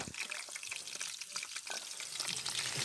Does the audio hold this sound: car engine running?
no